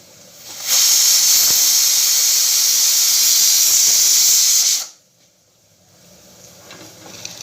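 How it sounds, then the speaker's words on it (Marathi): Half a litre of milk with sugar comes to a boil in a pot, giving a loud, steady steamy hiss for about four seconds. The hiss then cuts off into near quiet. "दुधाला उकळी आली बघा आता"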